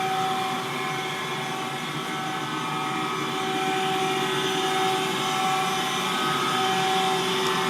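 A Schaudt 14 by 46 inch cylindrical grinder runs with a steady, fairly quiet mechanical hum and whine, constant and unbroken throughout with no talk.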